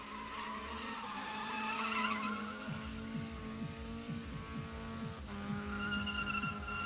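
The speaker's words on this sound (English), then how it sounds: "The little Miata's burning it down out here. Actually get some solid smoke rolling out of this thing." A Mazda Miata drifts at night at Big Indian Drift Pit, its tires squealing in long, sustained screeches over a revving engine, heard from a moderate distance with a brief sharp bang midway.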